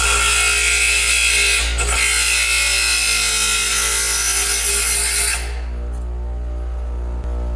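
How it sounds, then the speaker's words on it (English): A grinder grinds the teeth off a hardened steel saw blade being prepared for a layered, twisted Damascus knife. The harsh, loud, continuous grinding runs steadily for about five seconds, then cuts out, leaving a low hum. "So yeah, we're just going to grind off each one of those teeth and try to cool it down in between each one."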